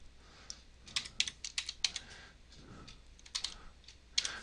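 Someone types a function in Matlab on a computer keyboard, producing a short burst of quick, close key clicks that pause briefly and then resume. No one speaks.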